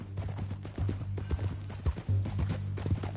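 Horse hooves clip-clop steadily in Red Dead Redemption 2, a rhythmic walking gait up close, with game music or ambience underneath and occasional louder thuds.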